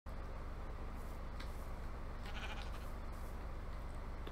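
Sheep in the Minecraft video game bleat repeatedly in a wavering, continuous stream of game sound effects over a steady background hum, with no talking.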